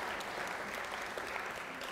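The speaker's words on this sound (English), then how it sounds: "let's put another round of applause for the contemporaries and the reminiscences" Audience applause fills the hall at the Steve Biko Memorial Lecture, a dense, even wash of many hands clapping, steady and moderately distant throughout, with no speech over it.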